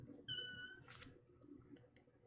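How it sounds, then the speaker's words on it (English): A house cat playing beside its toy box lets out a short, faint meow, followed by a brief rustling burst, all quiet in a calm indoor room. "My cat's playing."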